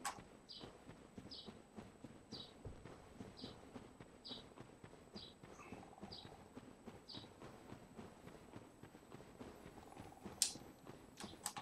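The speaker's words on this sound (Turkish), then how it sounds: "Ayak sesini duydum şerefsizim." Enemy footsteps in Dark Souls Remastered tread in a slow, regular series of faint clanking steps spaced about half a second apart, quiet and distant with a low ambient hum.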